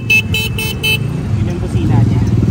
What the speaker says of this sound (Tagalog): Yun yung busina niya.